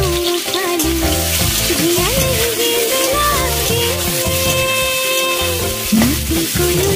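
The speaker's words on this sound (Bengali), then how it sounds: "এবার ভেজে নিচ্ছি আলুটা।" Potatoes fry in a pan with a small amount of turmeric for shukto, giving a steady, close sizzle with occasional stirring scrapes, running continuously under background music.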